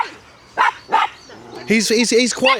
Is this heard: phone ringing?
no